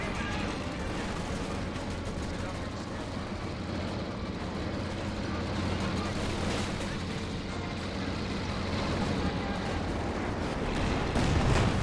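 Artillery barrage and 120mm mortar fire in the strategy game Company of Heroes 2: a dense, continuous rumble of blasts and battlefield noise with no clear gaps, moderately loud throughout.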